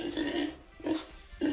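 A Krškopolje pig, its grunting played from a recording, gives three short low grunts in a row, each with a rough buzzy tone and brief gaps between them.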